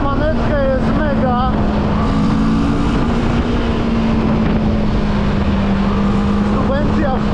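A new adventure-touring motorcycle downshifts to second gear and is throttled hard. The engine rises sharply, then holds a loud, steady drone close to the microphone, with a voice talking over it.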